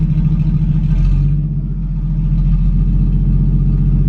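A pre-war car's engine drones steadily at low pitch as the clutch is eased out in gear, a loud, close, continuous rumble with a slight dip in load partway through.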